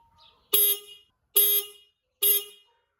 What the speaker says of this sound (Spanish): cuando tocas el claxon ves que el tuyo es mucho más pequeño que el del resto